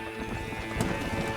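Rapid hoofbeats of galloping horses in Red Dead Redemption clatter close by over a steady musical drone, quick and rhythmic.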